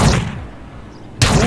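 A short-barrelled sawed-off shotgun in GTA IV fires two booming blasts, one at the very start and another after a quiet gap, both loud and close with no talking.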